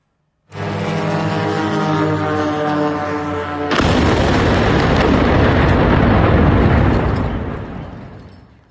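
A sustained roar of a suicide drone gives way to a sudden, massive blast as it strikes a refinery, followed by a long rumbling boom that slowly fades, loud and close.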